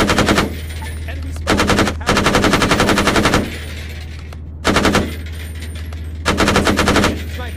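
Arma 3 machine gun fire in long, loud, sustained bursts separated by brief pauses, with a steady low hum running underneath throughout.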